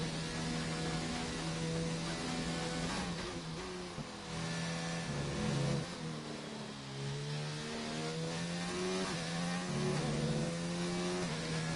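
McLaren race car engine in a racing video game at full throttle, a loud high-pitched wail rising and dropping through gear changes and braking, continuous and close.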